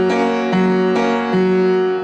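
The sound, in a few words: piano chords of a song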